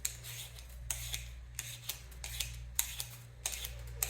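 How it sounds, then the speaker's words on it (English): Potatoes being peeled by hand in a home kitchen while soul food is prepared, giving quiet repeated scraping strokes at an uneven pace, close by over a low steady hum. "we will start peeling the potatoes"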